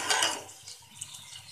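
A spoon scrapes and stirs inside a pot of Kashmiri pink tea being mixed with green tea leaves and star anise in cold water, with a brief clatter at first followed by soft, steady swirling.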